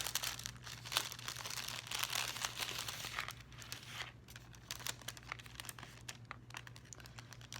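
Packaging around journaling cards crinkles and tears as it is opened, a close, busy stream of crackling plastic and paper rustles that thins out partway through.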